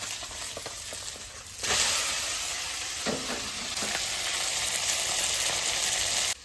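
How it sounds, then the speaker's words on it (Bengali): Small fish frying in a pan, with a loud continuous sizzle and crackle up close that jumps in intensity partway through and then holds steady with no voices. "এই মাছ কটা ভেজে দেবো"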